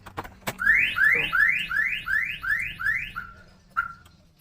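Car alarm set off after a car door is forced open, a loud rising electronic whoop repeating about six times in quick rhythm, then cutting off with a final short chirp.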